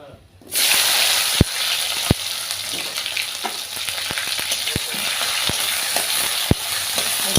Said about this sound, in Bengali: একটু লাল লাল করে পেঁয়াজটা ভেজে নেব।